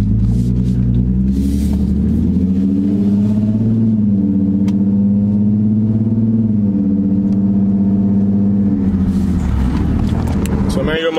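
Infiniti G35 engine during a test drive, a steady loud rumbling drone heard from inside the car for the whole stretch, its pitch rising and easing slightly with throttle, with noise swelling near the end.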